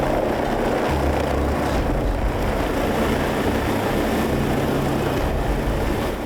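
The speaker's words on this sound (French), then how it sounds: "l'hélico décolle" A helicopter lifts off from the ship Pharos, sheltering from poor weather, with a loud steady rotor and engine roar and a deep throbbing low end that holds throughout.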